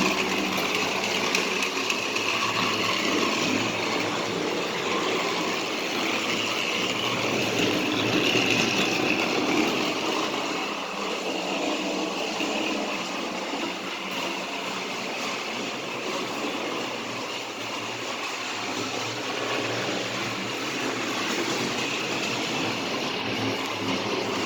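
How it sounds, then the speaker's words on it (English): Motorized Muddy Thomas toy engine from the Thomas and Friends All Engines Go range running steadily on its track, a continuous buzzing whir of a small motor, close and unbroken with no talking. "that's your quick run on the motorized all engines"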